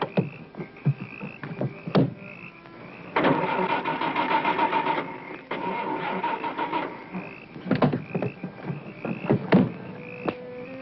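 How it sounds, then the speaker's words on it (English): A car engine failing to start, the starter cranking in repeated strained bursts with clicks and sputters between attempts, close and fairly loud with no talk. "my car won't start"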